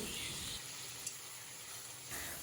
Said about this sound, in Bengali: মশলাটাকে আমি একটু ভালো করে কষিয়ে নেব